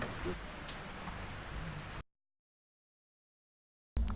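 Steady rain patters on a surface beside the Mekong for about two seconds, then cuts to silence before resuming briefly at the end.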